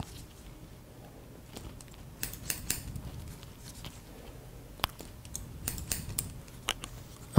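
Scissors snip through hair during a men's low-gradated haircut, a scatter of soft, quiet cuts in uneven bursts over a faint background hum.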